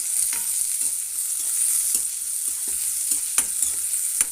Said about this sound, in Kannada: ಈರುಳ್ಳಿಯನ್ನು ಹಾಕಿ ಚೆನ್ನಾಗಿ ಬಾಡಿಸ್ಬಿಡೋಣ